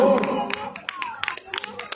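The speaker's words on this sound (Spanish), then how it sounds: "Venga, su aplauso, por favor." Scattered applause from an audience at a marinera dance festival during the Fiesta de San Juan Bautista in San Pablo, with sparse, uneven claps following a brief burst of voice at the start.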